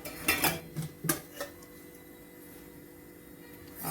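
A metal pan is handled while oil goes in for tempering, a few quick clanks and scrapes in the first second and a half, then quiet kitchen background.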